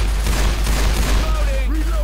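Rapid gunfire rattles without pause in the zombie shooter Left 4 Dead 2, loud and dense, over a deep rumbling bed, with faint whining tones near the end.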